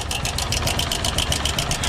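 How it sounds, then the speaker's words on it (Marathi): A car engine idles with a worn timing chain tensioner, giving a fast, even metallic ticking rattle over a steady low hum, loud and close throughout. "गाडीत ऑइल वगैरे सगळं चेक केलं पण बहुतेक टायमिंग चेन किटचा आवाज येतोय"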